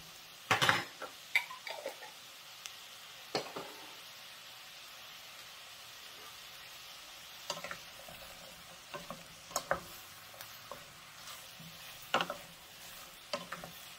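Vegetables and garlic fry in oil and butter in a pan for a vegetable curry, giving a soft, low sizzle broken by scattered scrapes and clinks of a stirring utensil. No one speaks.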